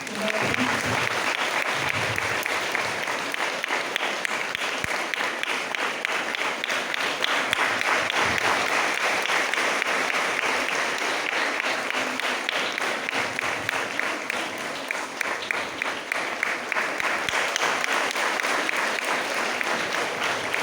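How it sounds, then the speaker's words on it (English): Sustained, fairly loud applause fills a school Environment Day gathering as a sapling is watered on stage, many hands clapping in a dense, unbroken wash for about twenty seconds. "Give a round of applause."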